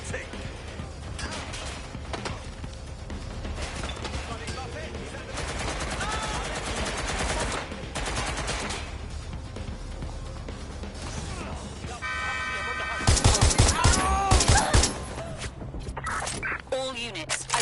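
Gunfire in the Watch Dogs video game crackles through bursts of shots, with a heavier rapid volley near the end, mixed with game sounds and radio-style voices talking.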